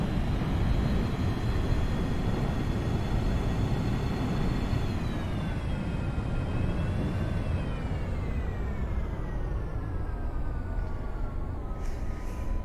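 An airliner touching down at a North Korean airport in X-Plane 11 gives a steady, loud roar of engine and rolling noise, with a faint whine sliding down in pitch as it decelerates, and no one talking.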